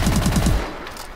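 An S-12 Vengeance shotgun fires full-auto in Call of Duty Advanced Warfare, a quick burst of about five loud, booming shots in fast succession that fades out into a short tail.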